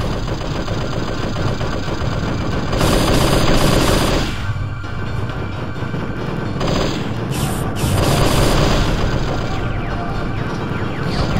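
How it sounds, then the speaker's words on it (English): Rapid machine-gun fire in the space combat game Unification Wars, a dense mechanical rattling that keeps up for the whole stretch and swells in loud bursts over a steady engine-like drone. "Machine gun time."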